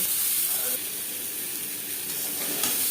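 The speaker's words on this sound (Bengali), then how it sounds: "আলু আমি হালকা করে ভেজে নিয়েছি।" Potatoes fry lightly with salt and turmeric in a kadai, giving a continuous, even hiss of hot oil with little variation and no distinct stirring strokes.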